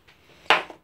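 A utensil stirring a pie mixture in a bowl gives a single sharp clink against the dish, followed by a brief scrape that fades out. Nothing else is heard around it.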